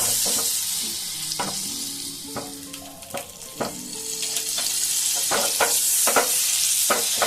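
Pav bhaji frying in butter and refined oil, with a steady sizzle throughout and repeated sharp clinks and scrapes of a utensil against the pan, fairly close and loud, no speech.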